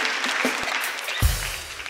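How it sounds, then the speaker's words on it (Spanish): An audience claps briefly for a mother and her son at a live Peruvian comedy show, a short burst of applause with a soft thump partway through. "Un aplauso para Michelle y su hijo"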